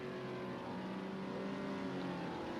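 Race car engines in a NASCAR racing video game at Road America, a continuous, fairly quiet drone of several engines held at high revs with no talk.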